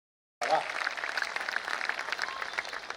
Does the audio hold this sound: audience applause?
yes